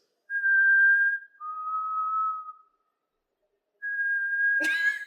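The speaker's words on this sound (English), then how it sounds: "That's really good whistling." Someone whistles two clear notes, one high then one lower, followed after a pause by another high whistle ending in a brief noisy burst.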